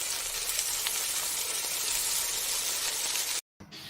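Food frying makes a steady, loud, close sizzle with a constant crackling hiss that cuts off abruptly near the end.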